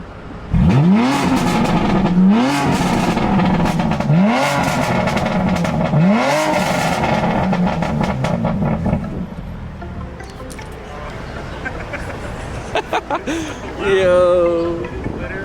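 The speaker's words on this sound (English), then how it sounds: "I'm gonna rev it for Danny." A BMW F80 M3 engine revs hard four times in quick succession, each rise sweeping up and falling back, loud and close, then settles to a rough idle while voices talk over it.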